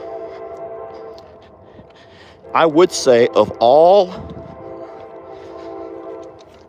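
A train passes by a ranch, a steady droning rumble with sustained tones throughout, while a person talks briefly in the middle.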